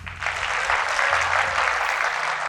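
Applause rises for a DJ at the opening of Le Grand Café de Me Bénéwendé Sankara, a brief, even wash of clapping with a low hum beneath, cut off abruptly at the end.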